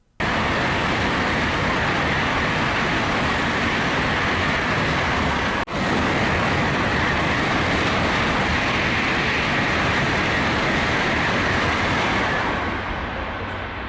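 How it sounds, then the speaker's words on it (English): Loud, steady rushing roar of a Japanese bullet train ride heard from inside, broadband and constant, with one brief dip midway. "we finally got to ride on a bullet train, and yeah, they fast"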